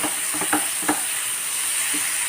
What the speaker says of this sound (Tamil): கொஞ்சம் நேரம் தண்ணி ஊற்றாமல் நம்ம வதக்கிக்கிடுவோம்.